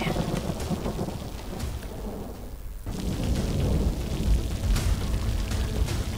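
Heavy monsoon rain in Narsinghpur pours down steadily, joined by rumbling thunder, loud and close throughout with brief crackling peaks.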